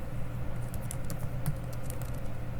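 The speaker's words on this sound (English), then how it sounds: "We're going to type in all caps" Steady typing on a computer keyboard, typing text in all caps, with soft continuous key patter at close range and no talking.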